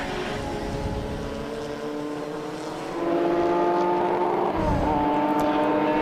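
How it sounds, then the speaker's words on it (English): Porsche and Corvette sports cars race around a track in a Group S sports car event, their engines droning steadily and growing louder and higher as they accelerate, with no talking. "The two Porsches are starting to close the gap on the Corvette."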